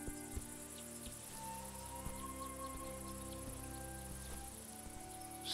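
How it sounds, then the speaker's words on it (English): Crickets chirp steadily in a grassy outdoor scene of the video game A Juggler's Tale, a continuous dense insect chorus with a soft wind-like background and faint scattered knocks, no voices. "To wind stroking grass, cricket orchestras, sounds all so new."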